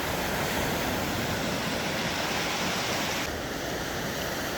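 Sea waves break on a rocky shore during big tides on the UK coast, a steady broad roar of surf and spray with no voices.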